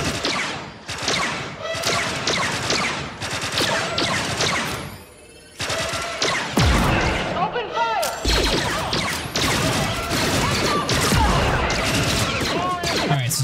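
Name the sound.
gunfire from troopers, Star Wars Outlaws video game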